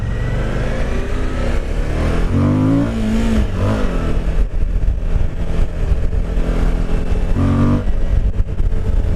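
A Suzuki V-Strom 1050 motorcycle pulls away in first gear on a gravelly road, its engine note rising in loud, sustained revving with a couple of gear-linked pitch sweeps and no talking.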